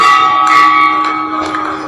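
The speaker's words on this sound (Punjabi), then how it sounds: "ਘੰਟੀਆਂ ਵੱਜਣ ਲੱਗੀਆਂ" Temple bells ring at a Krishna temple in Vrindavan as the doors open for darshan, a loud, bright, overlapping metallic clanging that sustains and slowly fades without a break.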